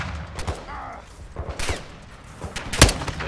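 Gunfire in Call of Duty Modern Warfare II, Ghost intro on PS5: a few scattered shots and short bursts, the last one loudest, mixed with thuds and game noise.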